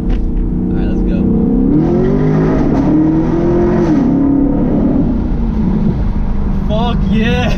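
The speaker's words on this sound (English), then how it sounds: "My exhaust had that rasp, had them pops, but now it has that deep growl that I've been wanting for forever." A car fitted with a new Borla exhaust accelerates with a deep, loud growl that climbs and falls in pitch through a run near a tunnel, with excited voices shouting over the engine throughout.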